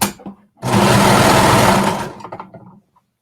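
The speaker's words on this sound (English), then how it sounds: "we're just going to sew along and connect them, making sure the raw edges are all together using a 1/2 inch seam allowance" A sewing machine stitches a bra to a top along a 1/2 inch seam in one steady, loud, close run of about a second and a half, then slows and stops, with faint handling clicks on either side.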